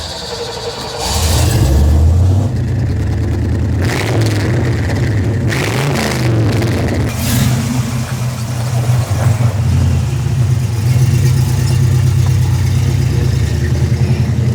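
Chevy small block V8 in a CJ5 Jeep with a Dana 300 transfer case, loud and close as it cranks, fires up, settles into a rumbling idle and revs up repeatedly with throttle blips.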